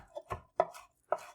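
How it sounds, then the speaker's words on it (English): Knife chopping Italian basil and parsley on a cutting board, three or four distinct close chops spaced irregularly, with no talking. "just, again, just chopping it up."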